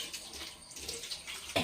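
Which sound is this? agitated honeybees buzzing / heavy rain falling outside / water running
water running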